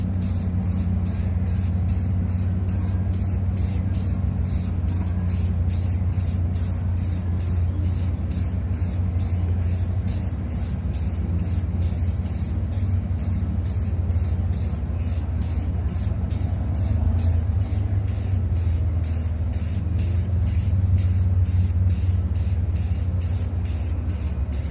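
Spray paint hisses steadily onto a plywood sign, a loud, unbroken rush of noise with a faint regular pulsing and a low hum beneath, lasting the whole time with no voices.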